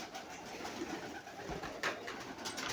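Pigeons coo softly amid a steady hiss of background noise, with a brief sharper sound near the end.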